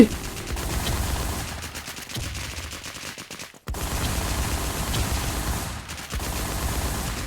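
Gunfire from the shooting video game Warz rattles in rapid, dense bursts, loud and close, with a brief silent gap midway before the shots resume.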